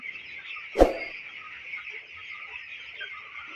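A flock of 24-day-old broiler chickens peeps steadily at a high pitch, with one loud, close cluck rising above it near the start.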